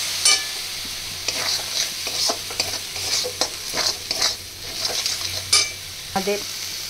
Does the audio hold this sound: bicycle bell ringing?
no